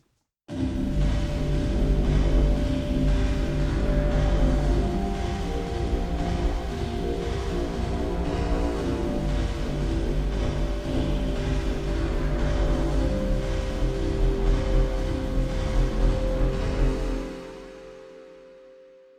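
A sustained musical passage washed in reverb, processed with damping EQ halving the bass reverb length, plays for a long stretch, then stops; the low end dies away quickly while the upper tail lingers briefly.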